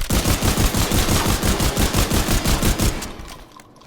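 Rapid automatic gunfire from The Division 2, a steady stream of evenly spaced shots for about three seconds before cutting off and fading.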